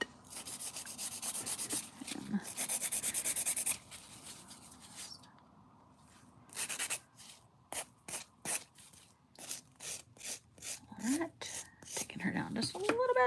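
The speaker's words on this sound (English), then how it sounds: "I'm going to buff it a little bit first." A dip powder nail buffed with short scratchy strokes, close and soft: a steady rubbing passage followed by a run of quick, evenly spaced swipes, with whispered talk in places.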